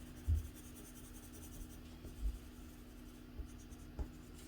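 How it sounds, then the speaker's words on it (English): A coloured pencil is burnished firmly over paper while filling an area of a portrait, making a faint, steady scratchy rubbing with a few soft knocks. "This area here we can just pretty much completely burnish."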